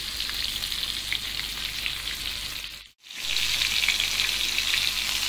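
Crumb-coated prawns frying in hot oil, a steady close sizzle that drops out briefly midway, then resumes just as loud.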